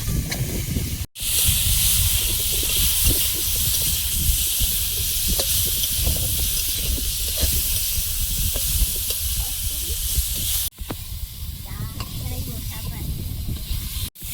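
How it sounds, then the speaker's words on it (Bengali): A few prawns frying in oil produce a loud, dense, steam-like hiss that runs steadily, cut by two short silent breaks, with no clear speech. "চিংড়ি কটা ভেজে নেব।"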